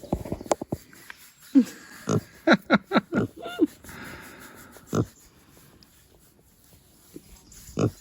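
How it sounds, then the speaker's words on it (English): Several pigs, Rascal and Copper among them, grunt and snort nearby while their bellies are rubbed, short bursts in uneven clusters with pauses between, no talk over them. "By rubbing pigs' tummies."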